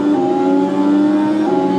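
An Indy NXT race car in the iRacing sim holds a loud, steady, buzzing engine drone with strong harmonic tones, close and continuous.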